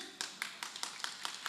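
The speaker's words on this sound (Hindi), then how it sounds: "देखो तालियां गड़गड़ाई" An audience claps along during a Jain sermon, producing a quick, evenly spaced run of sharp, fairly faint hand claps with a slightly hollow room quality and no talking over it.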